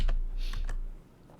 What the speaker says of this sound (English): typed in the wrong ticker.